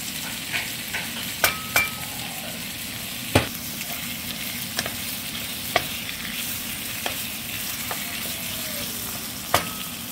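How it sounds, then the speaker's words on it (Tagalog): Asparagus stir-fries in a pan with oyster sauce, giving a continuous close sizzle over low heat, broken by scattered sharp clicks and taps of a spatula against the pan, with no voices. "habang niluluto ang asparagus ay wag masyadong malakas yung apoy"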